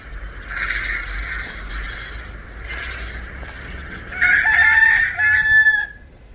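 A nearby rooster answers a recorded rooster call from a phone. Earlier, softer crowing gives way to a loud, sustained crow in two bursts toward the end.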